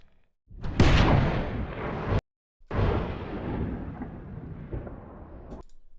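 Two loud booming thunder blasts, one then a short silence and another, each rumbling and fading, like a sound effect.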